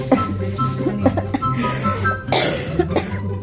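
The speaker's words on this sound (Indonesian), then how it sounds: "Sampai batuk ketawanya gitu." Repeated coughs from laughing break through over busy background noise, with laughter-like voice sounds and talking mixed in.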